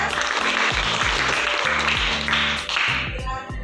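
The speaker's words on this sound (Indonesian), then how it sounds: "sekali lagi kita berikan tepuk tangan untuk kelompok Harry Potter" A class of students applauds the Harry Potter group after their presentation, a loud continuous burst of clapping with a low musical backing underneath, tapering near the end.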